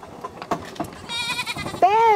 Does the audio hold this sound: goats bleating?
yes